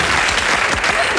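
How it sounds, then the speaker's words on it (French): Brief burst of audience applause at a French evening television show, dense continuous clapping from a live crowd, loud and close throughout with no clear talk on top. "Allez, on l'applaudit fort"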